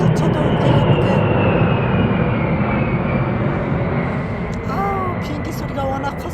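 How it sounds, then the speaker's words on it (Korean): A loud, steady roar from an airplane flying over a rooftop flower nursery fills the whole stretch, with a few faint chirps near the end. "비행기 소리가 워낙 커서"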